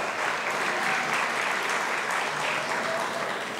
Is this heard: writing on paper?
no